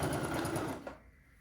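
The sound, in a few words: sewing machine stitching quilt sets together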